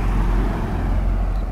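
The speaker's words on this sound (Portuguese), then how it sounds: "tem uns carros passando aqui." Cars rolling past on a road beside a parked Honda RF900R sport motorcycle, a steady broadband traffic rumble that stays loud and constant with no talking over it.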